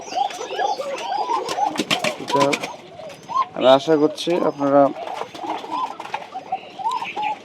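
White pigeons on a pigeon farm coo close by, with several rolling, throaty coos in the middle as someone talks before and after them.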